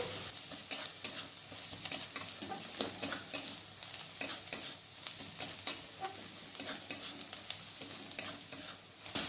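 Onions and turmeric powder fry in a pan, stirred steadily: a constant close sizzle broken by irregular scraping strokes, with no voices.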